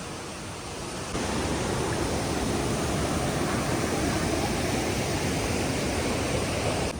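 Hukrattе waterfall in full flow, a steady dense rushing roar of falling water that swells louder after the first second and holds evenly, no talk.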